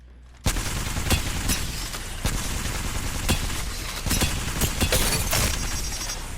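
An L-Star energy gun fires in Apex Legends as rapid bursts of sharp, loud shots after a brief quiet start, repeated in uneven volleys over a constant background drone.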